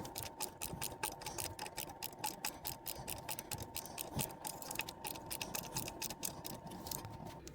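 A ratchet clicks steadily while backing out screws on a RICON wheelchair lift with a hydraulic leak, a quiet, dense run of fast ticks over a low steady hum.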